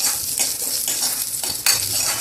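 Steady sizzling of ginger frying in hot oil with intermittent stirring scrapes and a metal clink near the end, close and continuous.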